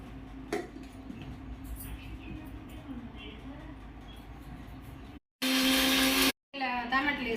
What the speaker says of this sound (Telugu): దీన్ని మిక్సీ పట్టుకొని మెత్తగా పట్టుకుందాం.